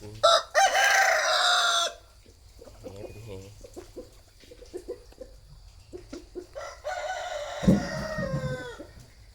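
A rooster lets out a loud, drawn-out crow near at hand, followed by chickens clucking and murmuring in short bursts, with a second harsh crow or squawk toward the end while a person talks in between.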